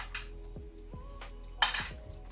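Small carburettor parts drop into an old tin can, giving several bright metallic clinks and rattles at close range, one louder clatter near the end.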